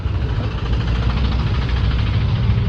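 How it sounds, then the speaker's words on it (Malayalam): A motorcycle engine rumbles steadily and close by, a constant low throbbing drone that holds the same loudness throughout. "ബൈക്ക് അത് വരുന്നു"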